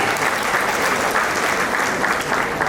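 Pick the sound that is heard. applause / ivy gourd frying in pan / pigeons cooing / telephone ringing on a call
applause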